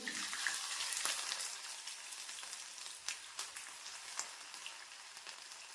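Ginger dropped into hot oil where mustard seeds have already popped crackles with a steady dense sizzle, with sharp spits and pops standing out over the frying at close range, no voices.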